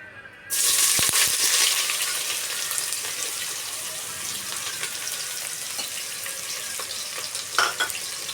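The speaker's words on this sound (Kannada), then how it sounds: "ಇವಾಗ ನಾನು ಕಟ್ ಮಾಡಿ ಇಟ್ಕೊಂಡಿರೋ ಈರುಳ್ಳಿನ ಹಾಕ್ತಾಯಿದ್ದೀನಿ" Chopped onions dropped into hot oil for a mutton gravy, bursting into a loud, sudden sizzle that settles into a steady hiss, with a few stirring clatters near the end.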